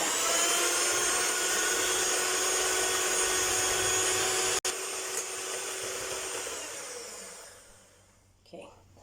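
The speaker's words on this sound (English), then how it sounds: "now that we've got our mixture nicely beat with the electric mixer" An electric mixer beating a snowball mixture runs with a steady high buzzing whir, stops abruptly partway, then restarts and winds down before a brief knock near the end.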